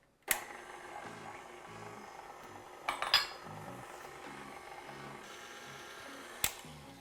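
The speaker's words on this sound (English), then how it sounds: "now I'm going to cut it in to really work it into the flour" Room-temperature butter being cut into flour in a bowl for a golden vanilla cake, with a few sharp utensil clinks against the bowl over a soft, steady scraping and no talking.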